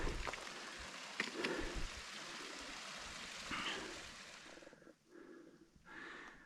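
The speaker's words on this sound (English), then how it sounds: "Just a beautiful little mountain stream." A small mountain stream near Benson Pass on the Pacific Crest Trail flows and babbles nearby in a steady watery rush, fading and thinning toward the end.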